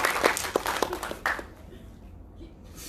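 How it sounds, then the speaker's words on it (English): Audience applause closing a stage musical about bees, a burst of clapping mixed with brief voices that fades out after about a second and a half, leaving quiet. "Let's give them one more round of applause."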